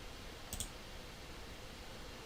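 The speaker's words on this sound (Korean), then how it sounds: "더블 클릭 해보겠습니다. 더블 클릭 했고" A computer mouse double-clicked during CAD software work: two quick, sharp clicks in close succession, near and distinct over a steady faint background hiss, with no talking.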